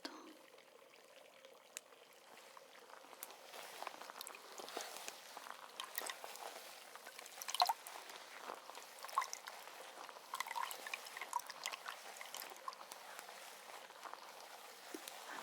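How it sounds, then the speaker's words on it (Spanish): Running water from a salon sink tap wets hair during a hair wash, a soft steady pour and patter with small splashes, fairly quiet and close, with no talking. "Voy a abrir el agua aquí."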